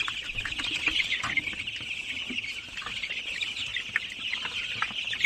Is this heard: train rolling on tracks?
no